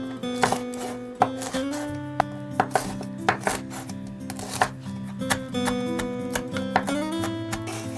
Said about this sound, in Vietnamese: Ớt này mình cũng băm nhuyễn để lát nữa cho vào nước mắm nè.